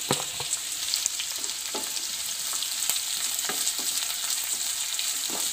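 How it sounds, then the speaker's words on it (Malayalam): Onions sauté in a pan over a medium flame, a close, continuous sizzle broken by regular stirring clicks, with no voices. "എന്നിട്ട് നന്നായിട്ട് വഴറ്റി കൊടുക്കുക"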